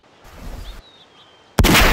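Gunshots in The X Files video game: a short burst of shots, then a brief lull, then a louder, harsher blast of fire close up at the end.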